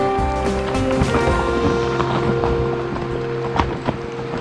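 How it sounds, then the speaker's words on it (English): A pack horse's hooves clip-clop steadily on a mountain trail in the Sawtooth Mountains amid rustling and outdoor noise, with occasional sharper knocks near the end. "The pack horse that thinks he's faster than you."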